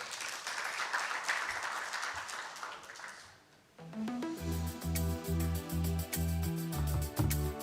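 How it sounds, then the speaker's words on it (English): An audience at a bank's financial results announcement gives a burst of applause that fades out, followed by loud upbeat music with a pulsing beat. "Another big round of applause for Abdi, Yusuf, Chairman."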